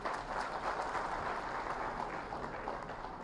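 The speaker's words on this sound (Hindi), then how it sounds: "मुझे लगता है कि तालियों की धुन थोड़ी कम पड़ रही है" Sustained applause from a crowd at a ceremony in Bihar honouring former governor Ganga Prasad, a steady, even wash of clapping that holds for several seconds without a break.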